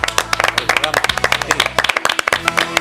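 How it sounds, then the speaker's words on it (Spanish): Studio audience claps on a Spanish TV program about religious brotherhood sculpture, a loud, close run of rhythmic applause with distinct individual claps, briefly thinning in the middle before picking up again. "Un aplauso para vosotros."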